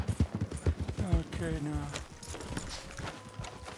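Horse hooves clip-clopping in Red Dead Redemption 2, a quick run of close, rhythmic hoof beats that fades into a softer bed of ambient sound, with someone talking over the start.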